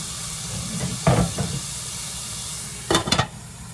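Steak for beef stroganoff sizzles in a pan as it gets covered, a steady close hiss with two brief louder bursts of clatter and spitting about two seconds apart.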